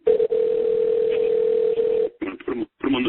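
A steady telephone dial tone hums loud and close for about two seconds during a radio studio call, then cuts off as people begin talking.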